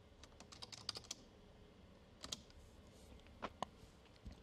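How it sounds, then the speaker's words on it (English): Keys tapped on a computer keyboard while a name is entered to save a mixer preset; quiet, irregular clicks come in small clusters with short pauses, close by and alone. "We can type in our name"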